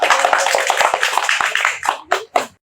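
A lively burst of applause, many hands clapping fast and close, thinning out into a few last scattered claps before stopping.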